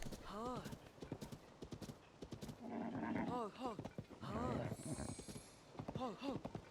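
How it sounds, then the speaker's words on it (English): Hooves clip-clop and a horse whinnies repeatedly in The Legend of Zelda: Tears of the Kingdom, the rhythmic hoofbeats running under several rising-and-falling neighs, with a voice talking over them. "Keep soothing the horse."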